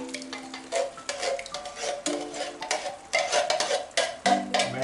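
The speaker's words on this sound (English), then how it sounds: "And we give it a bit of a good mix and a good stir." A spoon scrapes and clanks against a pot while spaghetti bolognese sauce with beef stock and diced tomatoes is stirred, giving close, irregular bursts of metallic knocks and scraping with short pauses between them.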